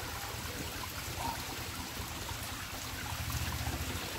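Gentle rush of water from a waterfall found while exploring, a soft, steady trickling flow heard from a distance, faint and unbroken with no talk.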